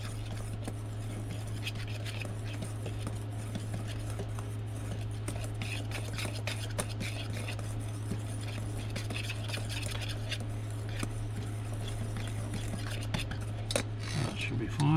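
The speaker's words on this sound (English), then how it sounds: "Whisk that together." Batter for a fried pork tenderloin being whisked in a bowl, a steady scratchy scraping that runs the whole time over a constant low hum, with faint speech in the background.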